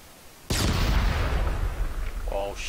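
An explosive charge goes off during military blasting training, a sudden heavy boom after brief quiet that rumbles and decays over two seconds, with faint voices near the end.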